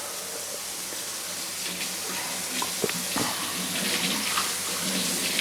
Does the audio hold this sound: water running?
yes